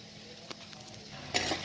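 Chopped green chillies stirred into a bottle gourd curry in a pan, giving a soft sizzle with a couple of brief scraping stirs, the louder one near the end.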